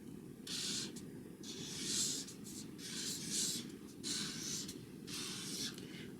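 A pen writing on paper in bursts of scratchy strokes, close and quiet, with short pauses between words over a low steady background hum.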